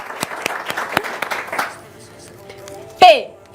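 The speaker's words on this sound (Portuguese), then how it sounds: "Ninguém bateu palma pra mim, né? Vocês são Palmas pra Jéssica." Short burst of applause from a small group for Jéssica, brisk scattered claps for about a second and a half, then quiet and a brief exclaiming voice.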